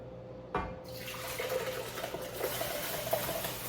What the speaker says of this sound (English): I'm actually just gonna pour this in my Vitamix is what I'm about to do